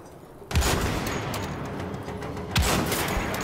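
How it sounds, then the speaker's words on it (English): Gunfire aimed at the player in the video game Wolfenstein: The Old Blood, with two sharp, loud bursts of shots about two seconds apart, each trailing off under a steady, noisy in-game background. "Somebody is shooting me, but where?"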